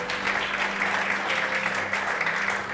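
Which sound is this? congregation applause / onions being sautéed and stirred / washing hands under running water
congregation applause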